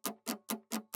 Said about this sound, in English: Then in the background I'm using these guitar scratches